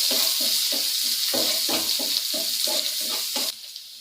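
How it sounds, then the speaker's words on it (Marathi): Chopped onion sautés in a hot pan, a steady sizzle broken by quick, rhythmic scraping strokes of a spoon turning the pieces, close and continuous, with no voices. "आणि ना त्यामध्ये घालणार आहोत कांदा. तर हे ना असं छानपैकी परतून घ्यायचं."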